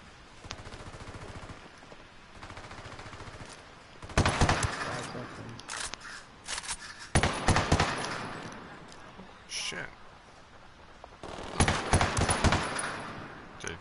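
Bursts of automatic gunfire in Ghost Recon Wildlands, several sharp rapid volleys of varying length separated by quieter gaps, loud and close, with people talking in between.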